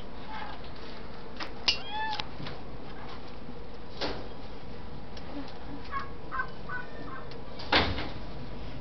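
A female pet cat gives a few short meows spaced apart indoors, with some light knocks and rustles in between.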